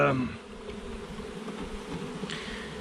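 A steady, low droning buzz of many honeybees fills the air around an open hive in fall, close and continuous throughout.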